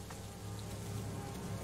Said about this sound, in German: Ich hatte gehofft, dass der Regen aufhört.